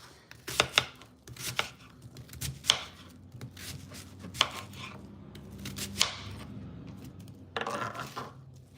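A knife chopping white or yellow onion on a board for a kielbasa crockpot meal, sharp irregular close-up knocks in quick bursts with pauses between.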